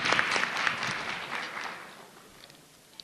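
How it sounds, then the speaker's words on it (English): Brief round of applause from a modest audience at a county budget public hearing, clapping that starts fairly strong then thins and fades out, with one last clap at the end. "give them a round of applause for coming out tonight"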